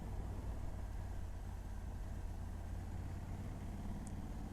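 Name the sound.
Honda Africa Twin 1100 motorcycle automatic gearbox downshifting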